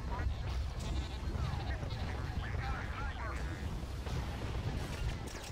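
Dense, continuous gunfire and explosions from the 2005 Star Wars Battlefront II game rumble loudly throughout, with blaster shots and battle noise layered together while a person talks over the action.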